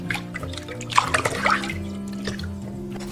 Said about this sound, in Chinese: 首先把鳗鱼清洗干净。